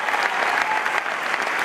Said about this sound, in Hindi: आपकी डायमंडशिप के लिए तालियां बजाइए।